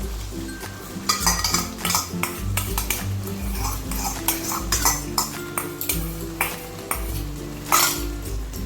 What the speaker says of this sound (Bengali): টক দইটা দিয়ে একটু নাড়াচাড়া করে নিবে।